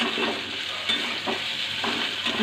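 Fenugreek and potato sabzi sizzles in a pan while being stirred, a steady fry with soft scraping strokes at intervals, close and moderately loud.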